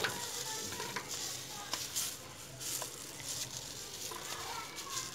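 Chopped onions frying in about three tablespoons of hot oil for a mixed vegetable sabzi tarka, giving a steady close sizzle with light stirring scrapes throughout.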